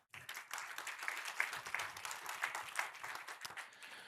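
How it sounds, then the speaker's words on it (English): Audience at a gas company's client conference applauding, steady clapping from a crowd filling the room for about four seconds, fairly even in loudness. "So a huge special round of applause to those people."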